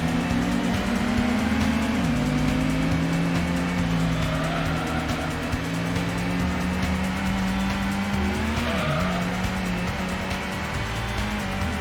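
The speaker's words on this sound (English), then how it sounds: "we got a little bit of tire spin" Gran Turismo race car, a wagon, driven hard with its tires spinning: a steady loud engine drone with shifting pitch and gear changes, and tire squeal running underneath throughout.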